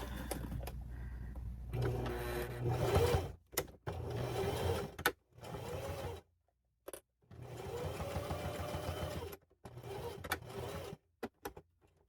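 A sewing machine stitches handbag pieces together in several bursts of fast, rhythmic needle whirring. Short pauses and sharp stops fall between the runs. The machine is close and loud.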